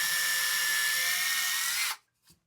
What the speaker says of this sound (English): jig that I'm going to be using, you got to drill in a little bit.